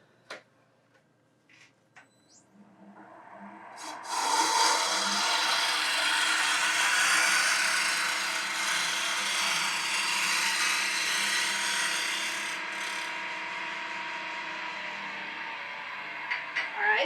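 A wood lathe cuts a taper on a turned leg against the grain, beginning with a few light knocks before a long, close, scraping cut swells in and holds, then tapers off near the end.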